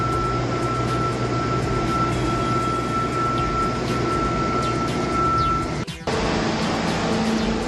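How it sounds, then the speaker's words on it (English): A blower clears excess sand off an epoxy broadcast floor in an industrial space, giving a steady, loud, close rushing roar with a steady whine, then a brief cut-out and restart near the end. "now the guys are blowing off all the excess sand in preparation for the first coat of epoxy"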